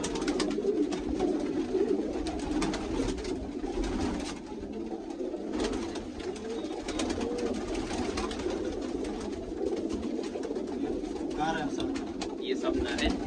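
Male pigeons coo in low, soft rolling calls throughout, mixed with flock chatter and faint background voices.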